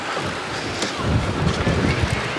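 Strong wind buffets the microphone aboard a sailboat at sea in choppy water, a continuous loud rushing roar with gusty swells and no speech.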